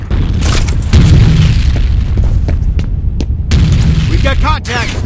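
A grenade goes off in a team-based capture-the-flag video game, a loud low boom rolling under busy game noise, with voices talking over it.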